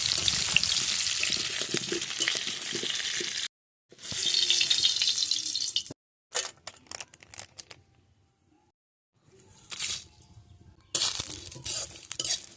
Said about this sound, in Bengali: যতক্ষণ ম্যারিনেশন হচ্ছে, আলুগুলো লাল লাল করে ভেজে নিই।